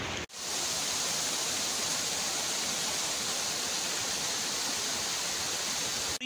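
River water flowing in Swat, a loud, steady, broad rushing roar close by with no break and no voices.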